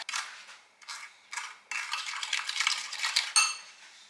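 A utensil stirs cake batter made with egg yolk, butter and half a spoon of vanilla in a bowl, giving close, bright scraping and clinking strokes in uneven bursts with short pauses between them.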